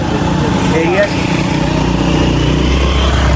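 A motorcycle engine with an engine problem runs steadily nearby, giving a continuous buzzing drone with a faint rubbery rattle, while people talk over it.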